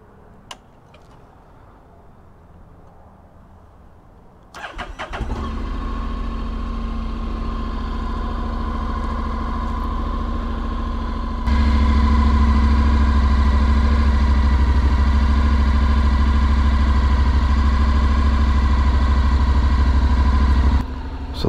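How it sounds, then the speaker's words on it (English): A 2021 Honda NC750X DCT motorcycle starts from cold after a few seconds of quiet. It settles into a steady, close idle, then steps up to a louder, higher idle about halfway through, with a light ticking under the engine note. "I just want to show you what this sounds like starting up cold."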